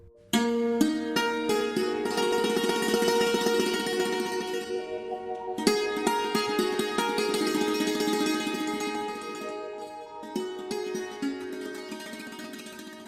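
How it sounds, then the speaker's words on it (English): Shimmering struck-string santoor playing, rapid hammered notes ringing together in a dense, continuous melodic texture with a brief pause midway. "this was the sound of santoor, which is a string instrument"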